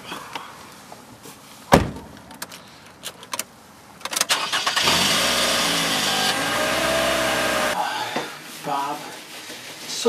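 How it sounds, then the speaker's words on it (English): A car engine cranks and catches, running with a rough, steady hum for a few seconds before cutting off; a sharp knock comes earlier, near and clear. "You always try to start the car, Bob."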